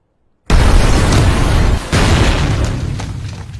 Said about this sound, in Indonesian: brankas berisi miliaran dolar milik Mukun juga hancur dalam ledakan tersebut